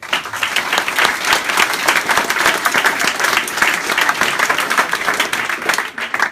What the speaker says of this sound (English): So really a big applause to the project team